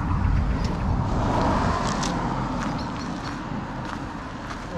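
A car arrives on a morning fishing outing in New Zealand, its engine and road noise forming a steady broadband rumble that eases slightly as it pulls in, with no talking.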